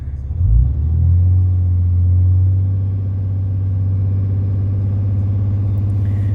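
A Cummins 6.7L diesel pickup truck engine idles close by after a brief rev at the start, settling into a steady, deep low rumble that holds evenly throughout.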